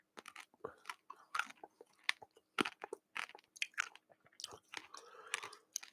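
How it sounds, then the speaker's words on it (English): Someone chews a chocolate covered espresso bean close to the mic, a dense run of sharp crunches and bites for several seconds with no talking. "I'm going to eat this chocolate covered espresso bean"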